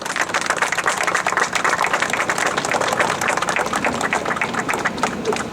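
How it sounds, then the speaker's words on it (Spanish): A crowd at a ceremony honoring the founder of the National Action Party applauds honored guests, with dense, sustained clapping throughout. "a Paula Romero de Terreros Gómez Morín, para quienes les pido un fuerte aplauso"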